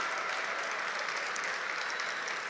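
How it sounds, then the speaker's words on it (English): Steady crowd applause at a storytelling evening at the National Civil Rights Museum, a dense continuous wash of many hands clapping at once, sustained evenly throughout with no voices standing out. "Could you give them a round of applause?"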